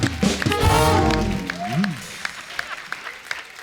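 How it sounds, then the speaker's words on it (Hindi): A stage audience at a tribute to Jaggu Dada bursts into loud applause that fades out over a few seconds, with someone talking over it. "एक बार जग्गू दादा के लिए जोरदार तालियां और हमारे सब कलाकारों के लिए जोरदार तालियां"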